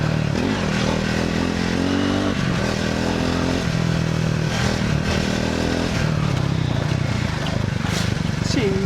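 A Triumph Speed 400 motorcycle ridden off-road, with a steady close engine drone and small rises in revs, along with rattles and scrapes from rough ground.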